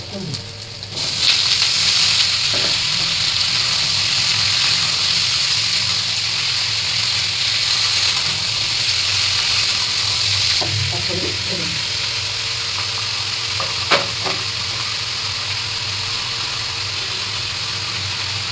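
Bay leaf, dried chili and mustard seeds hit hot oil and burst into a loud, steady sizzle that holds for many seconds, with occasional pops and utensil clinks.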